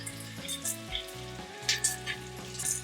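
Sliced onions and slit chilies sizzle steadily in hot oil for Goan pork vindaloo, a close, continuous crackle with soft stirring scrapes.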